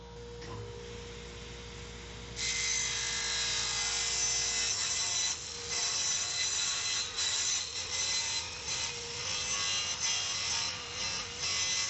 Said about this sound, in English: Again, we cut another 45 on the cutoff piece.